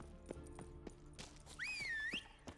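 Roach the horse in The Witcher 3 trotting in after a whistle: a series of soft, evenly spaced hoof clops, with a clear rising and falling whistle tone in the middle.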